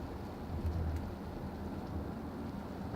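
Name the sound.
rain hitting a car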